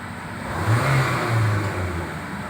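A Mitsubishi Xpander engine revs up toward about 4000 RPM and eases back, a near, steady mid-pitched surge rising and falling twice within a few seconds.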